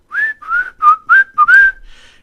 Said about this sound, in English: Batman also heard somebody whistling